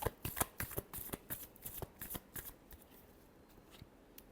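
Tarot cards shuffled in a rapid riffle of crisp, papery flicks, close and clear, gradually thinning and softening toward the end with no voices.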